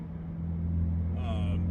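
Exhaust note from a 2022 Subaru WRX with a custom catback exhaust, heard from inside the car at a steady low rumble, with a slight rise in a higher engine tone toward the end.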